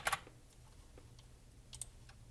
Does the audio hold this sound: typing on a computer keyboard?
yes